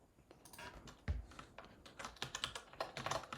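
Fingers typing on a computer keyboard, a quiet, irregular run of close key clicks that grows busier toward the end, with no voices.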